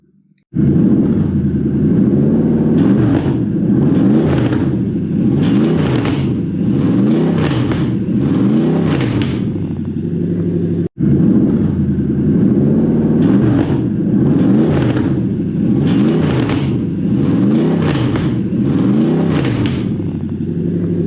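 A Toyota 1UZ car engine with an aftermarket idle air control valve revs repeatedly in rising and falling surges during idle speed adjustment, loud and close, with a brief break midway before the revving resumes.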